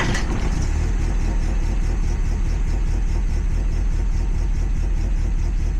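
A Mazda Miata NA engine runs steadily after quick tuning without a wideband, a loud, close, even idle with a rapid regular pulse and no talking.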